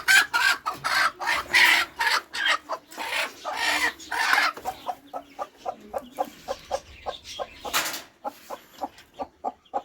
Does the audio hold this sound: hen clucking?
yes